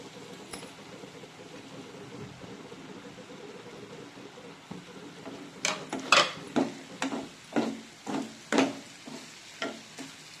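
Goat blood goes into a pan for a Tamil blood stir-fry (aattu ratha poriyal): a quiet sizzle at first, then a run of rhythmic, close scraping and stirring strokes against the pan.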